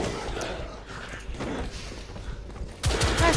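Gunfire in The Order: 1886, a steady wash of rapid shots and battle noise under a dense background, growing louder near the end with sharper, sweeping effects.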